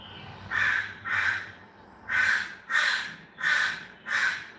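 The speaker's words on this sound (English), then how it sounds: "where in the world is that freaking bird noise coming from?" A crow calls six times in harsh, evenly spaced caws, two then a short pause then four, fairly close and clear over faint background noise.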